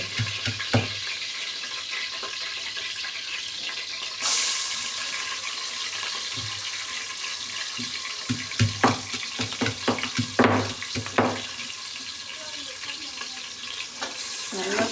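Crushed shallots fry in a pan for chicken biryani, giving a continuous close sizzle with scattered clinks and scraping spoon strokes that grow busier toward the end, with no voices.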